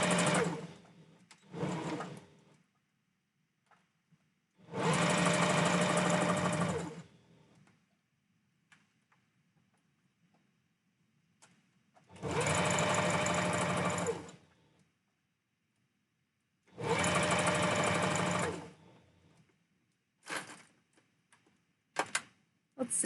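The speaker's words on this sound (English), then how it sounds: "I'm just sewing this." A sewing machine stitches a plush husky tail in four loud, close bursts of steady running, each lasting about two seconds with quiet pauses between, followed by a few short clicks and taps near the end.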